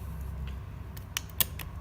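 The battery door of an Aspire Dynamo dual-battery box mod slides shut and clicks into place, a few faint scraping ticks followed by one sharp, close click.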